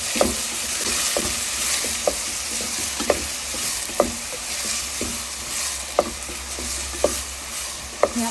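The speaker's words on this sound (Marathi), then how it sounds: "यात आपण आता हा बारीक चिरलेला कांदा घालूया." Finely chopped onion, two medium ones, fries in oil for sarson saag, a dense sizzle running throughout, punctuated by regular spoon taps roughly every second.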